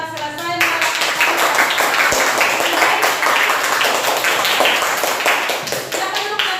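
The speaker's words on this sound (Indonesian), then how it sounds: "Sekarang berikan tepuk tangan bagi kelompok 2" A classroom group claps steadily together for several seconds, a loud burst of applause with a few voices mixed in near the start and end.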